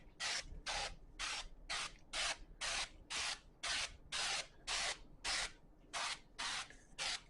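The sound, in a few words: spraying potatoes before seasoning for smoking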